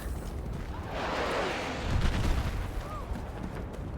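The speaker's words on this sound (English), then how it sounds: "Big explosion." A big, rumbling explosion in the game Battlefield 6 swells into a long roaring blast with gunfire-like crackle, loud and close, under faint voices.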